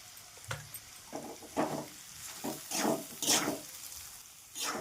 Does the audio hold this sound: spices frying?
yes